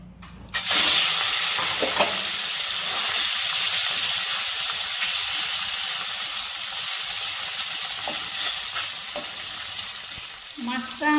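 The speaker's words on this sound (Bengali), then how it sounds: "এবার মাছগুলোকে ভেজে নেব।" Tengra fish sizzle loudly in hot mustard oil in a kadai, a steady bright crackle with a few spatters and scraping stirs, close and continuous with no talking.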